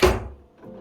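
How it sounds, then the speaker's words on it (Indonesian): A wooden kitchen drawer shuts with a single soft thunk that fades quickly, followed by quiet room tone. "Dengan laci-laci semua kayak gini gitu."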